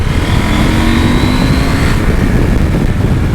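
Husqvarna Norden 901 motorcycle engine on a rough road while riding, a loud continuous mechanical drone with rising pitch as it pulls, mixed with wind rush and road noise.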